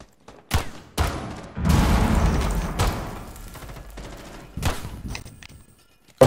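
Rainbow Six Siege gunfire: several sharp shots and a burst of rapid fire in a tactical shooter, fairly loud with short gaps between volleys.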